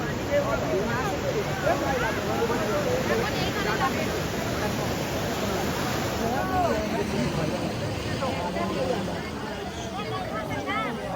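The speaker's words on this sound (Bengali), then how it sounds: "ঢেউটা পুরো মুখের কাছে ঢেউটা তৈরি করে" Sea waves break near the shore at New Digha during fishing, a continuous rushing roar of surf mixed with wind noise, with people talking over it throughout.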